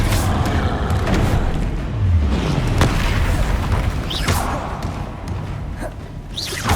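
Spell blasts and explosions from the Hogwarts Legacy video game, dense overlapping booms and thuds over a continuous loud rumble, with sharp whooshing bursts at intervals.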